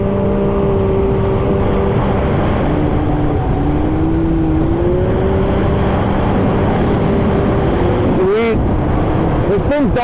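A snowmobile, either a Mach or a Sidewinder, accelerating along a trail with a loud, steady engine drone whose pitch climbs and wavers, rising sharply near the end, with a voice talking over it.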